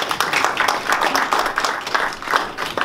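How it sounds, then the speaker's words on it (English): Audience applause closing a lecture on Tolstoy's orphan Peter Plotkin, a steady dense patter of many hands clapping close by for about three seconds, with no voices over it. "I have to put this microphone down to applaud."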